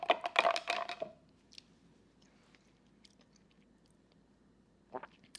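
Chewing while tasting a grilled okra, corn and tomato salad with jalapeño dressing: a close burst of wet, crunchy bites in the first second, a quiet pause, then a brief chew near the end.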